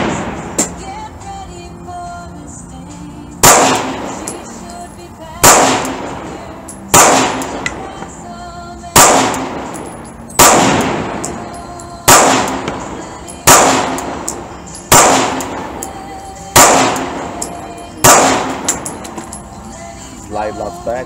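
A SAR9 pistol fires across two magazines: about a dozen sharp, loud reports at steady intervals of roughly one and a half seconds, each ringing out with a metallic clang and a short echo.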